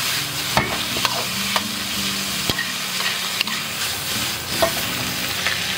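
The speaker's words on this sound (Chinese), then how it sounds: "先给它爆炒一下。" Fish maw and chicken gizzards stir-fried over high heat with chili bean paste and red oil, a loud steady sizzle broken by sharp spatula clacks against the wok every second or so, close up with no talking.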